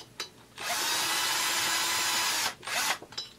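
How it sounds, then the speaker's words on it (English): Power tool driving cylinder head bolts on a Husqvarna 350 engine, a loud, close whirring burst of about two seconds, followed by a shorter spin and a few brief blips. "Okay, cylinder head bolts are going on."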